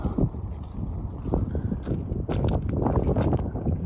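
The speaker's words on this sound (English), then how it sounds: "Pretty windy this morning." Steady wind rushing and buffeting across an outdoor microphone on a coastal walk at Warblington, a continuous gusty roar with low rumbling throughout.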